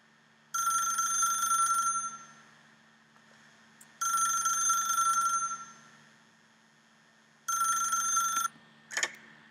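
Telephone ringing in a video game, three loud, bright electronic bursts of trilling rings separated by pauses of about two seconds, followed by a short click.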